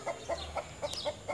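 Hens kept in a backyard coop separated from the house cluck in soft, evenly spaced calls, about six short clucks over a moment, fairly faint with a low background hum.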